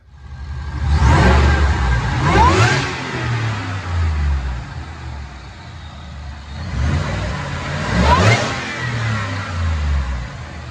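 Powerful engine of a 2019 Ford F-150 with a Roush supercharger revving twice on a dyno, supercharger whine climbing on each rise, loud and close, settling back to a rumbling idle between.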